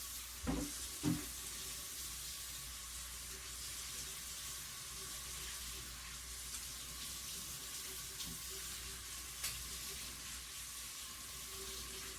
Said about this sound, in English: Wash off the cutting board.